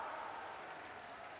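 Applause from the audience at a political rally in Chittorgarh, Rajasthan, a steady, distant wash of crowd clapping that stays faint and even throughout.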